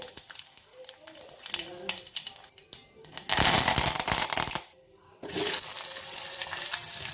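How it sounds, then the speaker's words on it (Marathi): Cumin and mustard seeds sizzle and crackle as they hit hot oil for a cauliflower and pea dish, with a loud frying hiss rising midway, briefly dropping, then returning steadily, and someone talking over it. "जिरं मोहरी घालूया त्याच्यानंतर थोडासा हिंग घालतीये"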